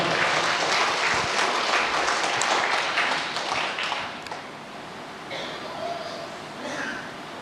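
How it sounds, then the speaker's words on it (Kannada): A church congregation claps hard and fast in a dense burst of applause that fades and thins toward the end, with a few voices coming through. "ಜೋರನ್ನು ಚಪ್ಪಾಳೆ ತಟ್ಟಲು ಜೋರಾಗಿ."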